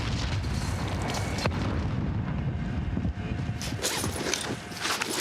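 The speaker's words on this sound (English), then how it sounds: "Frag out." A grenade exploding in a video game, heard as a dense, loud rumbling boom amid continuous battle noise and gunfire, with a sharp blast near the start and sustained heavy low-end roar throughout.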